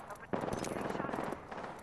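Rapid automatic gunfire from the Apex Legends battle royale game, a sustained burst of close, loud shots lasting about a second, with fainter shots before and after and speech mixed in.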